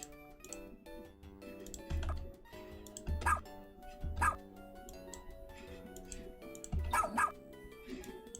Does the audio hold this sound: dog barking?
yes